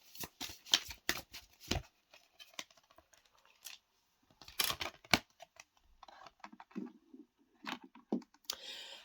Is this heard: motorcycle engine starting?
no